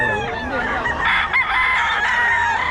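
A Sweater breed gamecock rooster crows loudly and close, one long drawn-out call with strong harmonics filling the stretch, with faint background noise and no clear talk over it.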